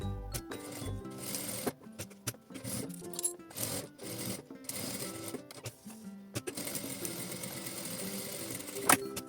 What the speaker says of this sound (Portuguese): E vou fazer um pesponto na parte de cima e na parte de baixo.